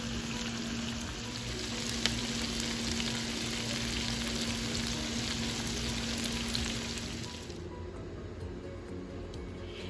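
Mutton masala chops sizzle steadily in a hot pan, a dense continuous frying hiss at a constant level that thins out abruptly near the end, with no voices.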